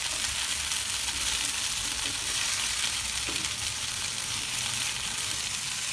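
A chicken starter fries in a pan with a steady, dense sizzle and crackle that holds at an even loudness throughout, with no talk.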